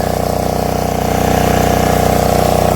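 Loud, steady chug of an engine-driven water pump running at a well by a brick kiln, close by, with an even rapid pulse and constant drone throughout.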